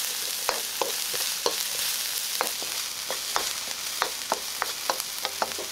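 Onion and garlic sizzle steadily in hot oil in a pan, with soft frying hiss throughout and scattered light spatters and stirring clicks, close and alone with no voices.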